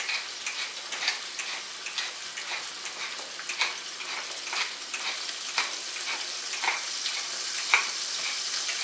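Chicken sizzles and crackles in a hot pan, a dense steady frying hiss with frequent small pops, close and unbroken by talk.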